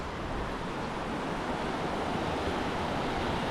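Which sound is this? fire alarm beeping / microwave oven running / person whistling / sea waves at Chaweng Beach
sea waves at Chaweng Beach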